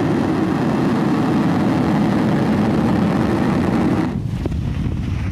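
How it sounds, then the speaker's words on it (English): SpaceX Falcon 9 lifting off from SLC-4E at Vandenberg, California: a loud, steady, broadband roar of rocket engines heard from a distance, with wind buffeting on the microphone, alone and continuous. "Ignition. And liftoff of Falcon 9."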